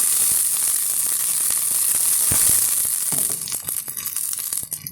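Ingredients frying in hot oil in a pan for a pickled pachadi, a steady bright sizzle running throughout with scattered crackles and pops, easing and turning patchier near the end.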